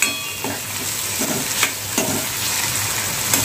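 Finely chopped tomato and onion fry in oil for a potato bhaji, a constant sizzle broken by several soft stirring scrapes at a fairly regular pace.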